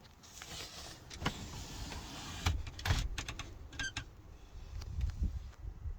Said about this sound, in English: You just want to lift up on that and then pull the bed out.